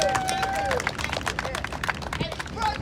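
An audience gives Ms. Rice and her family a round of applause, with brisk, dense clapping close by, scattered cheers and a brief shout at the start.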